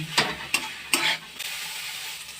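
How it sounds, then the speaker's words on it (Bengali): Fried soybean chunks and potato are stirred in a spice masala in a kadai, with three sharp spatula scrapes against the pan over a soft, close sizzle that continues alone afterward. "এইভাবে এর আমি একটু ভালো করে কষিয়ে নেব"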